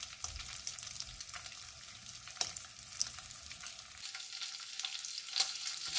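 Shrimp searing in hot oil in a wok for a home-style shrimp, spinach and scrambled egg dish, a dense continuous sizzle with light scraping of the utensil, close and unbroken, no talking.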